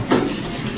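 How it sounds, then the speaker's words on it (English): Water pours steadily into buckets, a continuous close splashing rush with no voices. "so I'll start filling the buckets back up."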